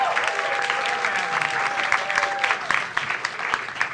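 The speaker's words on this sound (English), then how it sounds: "give me a sarcastic round of applause for my co-host, Rob Frawley" A podcast audience gives a round of applause for the co-host, loud continuous clapping from a crowd that holds steady before thinning slightly toward the end.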